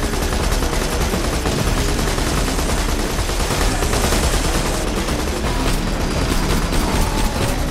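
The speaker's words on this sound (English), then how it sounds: "I think I will do better if I just shoot at it with a handgun" Gunfire rattles nonstop in the looter-shooter Borderlands 2 as a player shoots a handgun at an enemy, a loud, dense stream of rapid shots and impacts filling the whole stretch.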